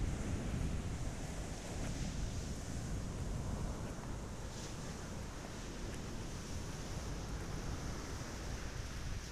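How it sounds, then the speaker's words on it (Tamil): Rough sea with high waves breaking on a beach, heard as a continuous, fairly distant wash of surf mixed with gusting wind buffeting the microphone, no voices. "இன்றைக்கி கடல் அலை கொஞ்சம் அதிகமாக தான் இருக்குது,"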